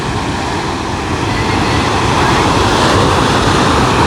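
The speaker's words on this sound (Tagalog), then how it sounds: "Kita nyo guys, so, oh, ang lakas ng alon." Steady, loud roar of strong surf crashing on a beach at Caba, La Union, continuous broadband wash with no clear pauses, heard close by.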